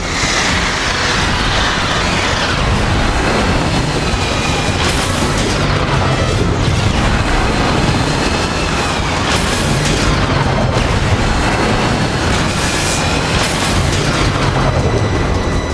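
Heavy missile explosions in the Transformers: War for Cybertron video game, a loud continuous barrage of booms and rumbling blasts with rattling debris, dense and close throughout with no talk.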